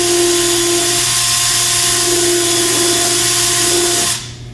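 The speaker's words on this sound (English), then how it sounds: "I'm just going to take this drill and I'm just going to run right straight through" Power drill boring straight through a workpiece, a steady loud whirring whine with a constant hum held for about four seconds before abruptly winding down at the end.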